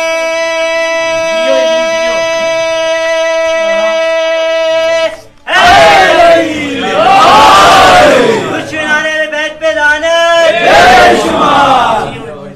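A crowd at a devotional recital gathering chants salawat in loud, repeated bursts after a long sustained harmonium-like drone, the voices rising and falling in waves.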